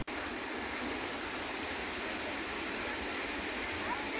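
A mountain stream rushes steadily along a hiking trail, a constant, fairly loud broadband wash of water with no breaks.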